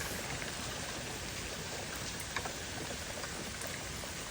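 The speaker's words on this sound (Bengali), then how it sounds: "10 মিনিট খুব জোরে বৃষ্টি, তারপর 10 মিনিট হালকা বৃষ্টি" Rain falling outdoors, a dense steady hiss of drops that continues evenly throughout at moderate distance, with no voices.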